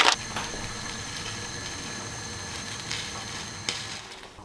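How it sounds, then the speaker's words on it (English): Curry sizzling and bubbling in a metal mess tin, a close, steady frying hiss with a few clinks of stirring and no talk. "I'm going to cook a little curry in here now"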